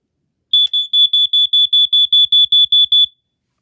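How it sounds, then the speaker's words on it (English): A vintage First Alert SA67D smoke alarm from around 1990 is tested. It gives a rapid series of about a dozen loud, piercing, evenly spaced beeps close by, then stops. "Very nice smoke alarm. Let's test it."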